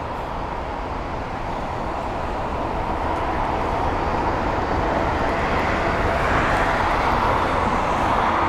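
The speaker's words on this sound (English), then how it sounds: "That was a very, very nice arrival there from the Neo, the A321neo actually." An Airbus A321neo jet lands on runway 27 right at London Heathrow, its engine roar steady and loud throughout, swelling slightly as it passes near.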